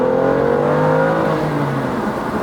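A BMW M2 CS with a manual gearbox pulls hard under turbo boost in second gear, its engine note rising steadily in a loud, continuous growl close by with no talking.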